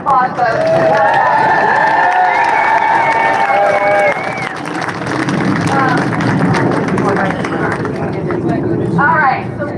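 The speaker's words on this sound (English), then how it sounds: "Let's give them another round of applause," Crowd at a street protest rally claps and cheers loudly, whoops and shouts rising over dense applause that stays full and close throughout, with voices mixed in.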